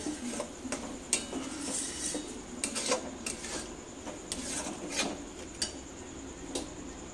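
Cauliflower curry with salt and sugar being mixed in a pan: soft, fairly quiet scraping and clinking of a spoon against the pan, with intermittent light taps over a low sizzle.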